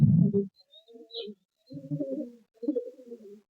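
Madras pigeons coo nearby in three separate throaty, bubbling phrases with short silent gaps between them, clear and unaccompanied by voices.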